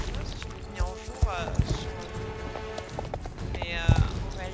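Horse hooves clopping in a video game, irregular hoof hits moving at pace amid game ambience, with people talking over much of it.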